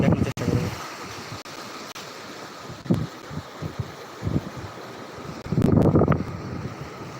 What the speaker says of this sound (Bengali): বড় বড় ঢেউ আসছে এবং সেই ঢেউয়ের যে গর্জন এটা কিন্তু এখান থেকে শোনা যাচ্ছে